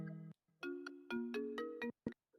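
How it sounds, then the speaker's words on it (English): A phone ringtone plays nearby: a bright melodic chime of several stepped tones, then a short pause and two brief closing notes, with no voices. "I've got a phone ringing."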